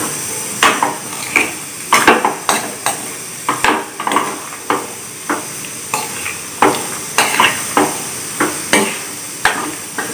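A spoon stirs ground coconut and cumin into a Kerala yam and raw plantain erissery curry for Onam, with repeated close scrapes and sharp knocks against the pot in an uneven rhythm over a thick, wet churning.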